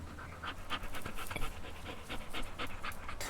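Rapid, rhythmic panting from a dog in the video game Teardown, quick breathy puffs repeating steadily at close range with no speech.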